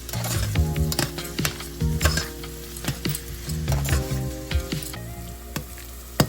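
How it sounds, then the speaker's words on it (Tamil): Onions sizzle and fry in a pan for Chennai-style mutton biryani, a steady close crackle punctuated by repeated scraping, stirring strokes of a metal spoon in a loose rhythm. "ஸோ ஆனியன் பார்த்தீங்கன்னா வந்து நல்லா ஃப்ரை ஆகிருக்கு"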